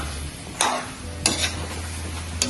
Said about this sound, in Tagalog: I-mix nyo mabuti yan.